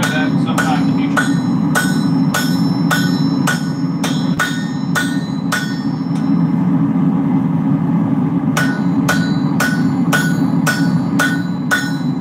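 Blacksmith hammering metal on an anvil to peen down a knife tang: a fast run of sharp, ringing strikes, a pause of about three seconds, then another regular burst, over a steady low forge roar.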